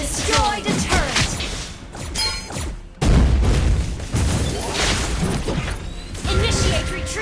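A turret being destroyed in the mobile game Mobile Legends amid hero combat: dense layered crashes and booms, with a heavy impact partway through and busy battle effects before and after.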